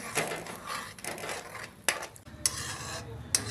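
Beaten eggs fry over low heat in a pan as a utensil stirs and scrapes them, making uneven scraping swishes with a few sharp metallic clicks over a low sizzle.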